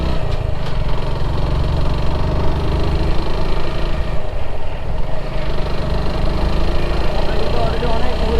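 Motorbike engine labouring on an uphill climb on a tea-country road, a loud, steady low drone throughout with a rider talking over it.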